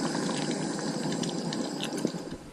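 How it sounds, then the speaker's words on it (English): Thick sauce bubbles and simmers in a pan over a camp stove at sunset during solo boat camping, a close, continuous soft popping and sizzling with small scattered bursts. "Oh, look at the bubbles there. They're bubbling away."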